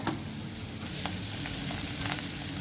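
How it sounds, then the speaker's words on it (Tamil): Pirandai (adamant creeper) sautéing in a pan makes a loud, continuous crackling sizzle, with the spatula stirring and scraping through it, close up and without voices. "இதுமாரி நல்லா வதக்கணும்"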